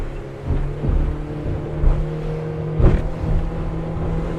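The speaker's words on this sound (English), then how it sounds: "Plenty of power out of that Yamaha 4-stroke, they're so strong." A Quintrex 520 Ocean Spirit boat with a Yamaha four-stroke outboard accelerates, its steady engine drone rising and swelling with a few surges, loud and close, without talk.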